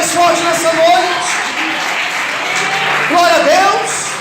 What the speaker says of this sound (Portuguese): Aplauda o Senhor mais forte nessa noite.